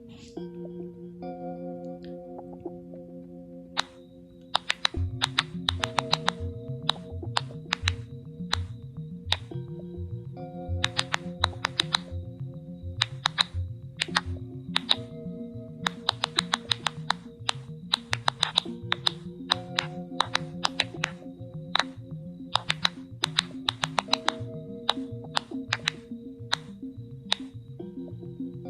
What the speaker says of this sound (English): what you just heard is a scream from a plant